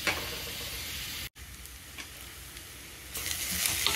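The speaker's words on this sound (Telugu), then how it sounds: "ఉల్లిపాయ ముక్కలు ఇలా వేగిన తర్వాత" Onion pieces frying in a pan for mushroom curry, giving a close, continuous hissing sizzle with a brief cut near the start and swelling louder toward the end.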